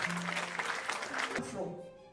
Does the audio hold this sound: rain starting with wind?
no